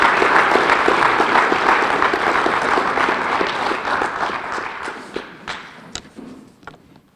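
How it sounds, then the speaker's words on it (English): Applause for an award recipient at a high school football awards ceremony, a dense burst of many clapping hands that thins out and fades over several seconds, leaving a few scattered claps at the end. "please give a round of applause to Devin Senecal"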